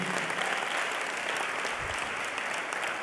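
A church congregation applauds steadily during a Spanish-language sermon, a dense continuous wash of many hands clapping at once, loud and sustained with no talk over it.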